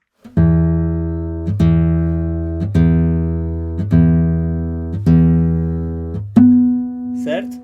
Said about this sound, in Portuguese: Agora eu vou tirar o dedo e esse harmônico vai subir.